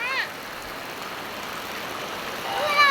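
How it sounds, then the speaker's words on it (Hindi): Steady rain falling while the sun shines hisses softly in the background, with faint bird chirps at the start and end. "इधर धूप भी हो रहा है, बारिश भी हो रहा है।"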